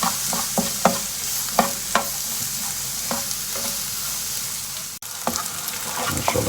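Onions, potatoes and masala frying in a pan with a steady hiss, broken by repeated scraping stirs of a spoon against the pan, close and moderately loud with no talk.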